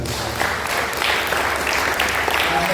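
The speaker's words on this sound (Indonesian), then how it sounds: "Tepuk tangan dulu." Audience applause at a junior high school farewell ceremony in Jayapura, a steady dense wash of clapping from many people that holds evenly throughout, loud and close with no voices over it.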